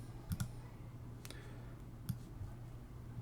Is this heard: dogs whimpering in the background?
no